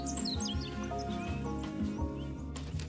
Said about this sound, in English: put some bird sound effects, feature bird